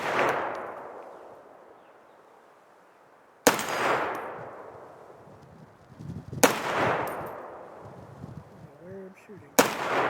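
A Ruger SFAR rifle fires PMC X-Tac rounds outdoors: four loud, sharp single shots spaced about three seconds apart, each followed by a long rolling echo.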